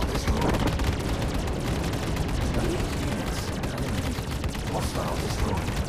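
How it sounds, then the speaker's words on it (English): Ship weapons firing at hostile enemies in the Star Citizen space game: a steady, loud barrage of rapid shots and blasts that rolls on without pause. "let's jump cut to firing weapons with some enemies"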